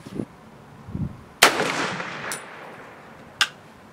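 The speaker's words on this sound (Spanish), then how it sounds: "Y ahí va nuestro primer disparo con el M1 Garand." A single sharp, loud M1 Garand rifle shot cracks out, followed by a ringing echo, with a couple of fainter thumps before and a smaller clank afterward.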